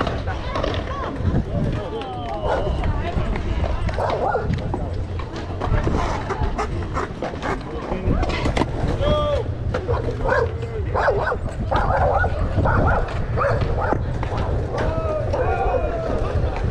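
A dog barks in short repeated yaps on a busy Los Angeles street, moderately close, mixed into a steady wash of traffic noise and people talking nearby.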